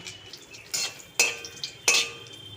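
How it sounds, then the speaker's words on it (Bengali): Lentil dumplings (bori) frying in oil in a kadai, with a steady low sizzle and three sharp utensil scrapes or stirs against the pan, spaced about half a second apart. "বড়িগুলো ভেজে তুলে নিলাম"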